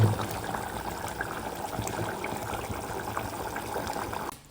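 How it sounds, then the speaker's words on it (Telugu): Gongura chicken curry simmering in a pot on a gas stove, giving a steady soft bubbling and sizzling texture that continues evenly, then drops away near the end. "ఇప్పుడైతే మన కూర ఉడుకుతుంది మంచిగా."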